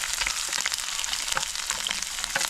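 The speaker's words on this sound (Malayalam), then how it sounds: "ഇതിലേക്ക് ഞാൻ ഇഞ്ചി കൊത്തി അരിഞ്ഞ് വെക്കുന്നതൊന്ന് ഇട്ട് കൊടുക്കുകയാണ് അതോടൊപ്പം തന്നെ വെളുത്തുള്ളിയും കിടങ്ങിടാം" Chopped ginger and garlic fry in a hot pan for a Kerala-style squid roast, giving a steady, close, loud sizzle with small crackling pops and no voices.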